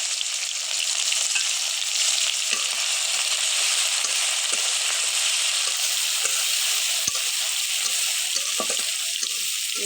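Garlic fries in hot oil for a jute leaf curry, a loud continuous sizzle with faint stirring scrapes close by, no voices heard.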